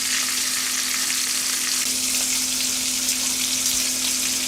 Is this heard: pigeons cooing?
no